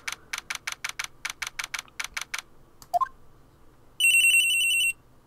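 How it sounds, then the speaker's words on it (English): A telephone ringtone in the Phoenix Wright video game: a rapid run of bright electronic beeps, a short blip, then a sustained high trilling ring at the end, clear and loud with no voices. "Change your ringtone, Phoenix."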